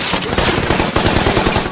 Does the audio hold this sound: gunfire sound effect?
yes